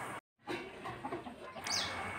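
Village chickens being fed overripe banana, with soft clucking and a brief higher call over a rustling background after a short silent gap.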